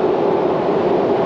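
A steady, loud rumbling roar of a Meitetsu train passing close overhead on tracks in Nagoya, heard from just beneath them, continuous throughout the short stretch.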